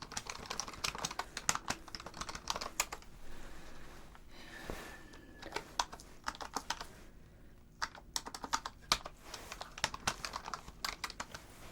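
Rapid, light tapping on a Bluetooth keyboard comes in close, quiet bursts of keystrokes separated by short pauses, in a calm hospital exam setting.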